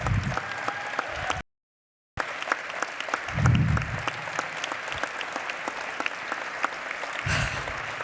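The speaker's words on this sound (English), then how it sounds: "Keep clapping." Audience applause at the Sundance Film Festival closing night awards ceremony, a dense sustained clapping from a large crowd that cuts out briefly, then resumes and carries on, with a few louder bursts.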